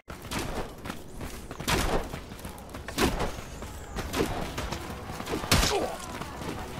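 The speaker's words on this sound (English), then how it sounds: "This guy is just shooting the ballista with no regards of who's in front of it." Ballista firing in the medieval combat game Mordhau: a few sharp, heavy shot bursts ring out at uneven intervals over a constant din of battle clatter and scuffling, with no talking.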